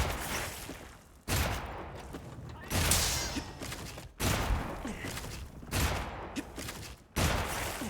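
Gunfire in the Monster Hunter Wilds video game sounds as a series of about six loud, broad blasts. Each blast trails off into a rumbling tail before the next shot, with no talk over them.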